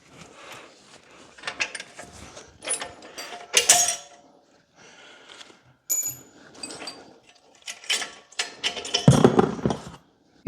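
Metallic clicks, scrapes and taps from working a front brake caliper pin out against a tension spring on a BMW 340i brake job, heard up close in irregular bursts with pauses between them.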